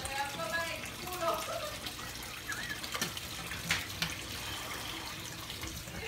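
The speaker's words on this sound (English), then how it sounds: "oh, that's hot water." A tap runs hot water in a steady, faint splashing stream, with a voice and a few clinks heard over it.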